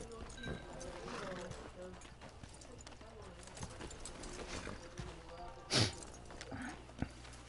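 A horse rides in Red Dead Redemption 2 Online with rhythmic clip-clopping hooves, a brief whinny and a sharp thud partway through, while people talk over it.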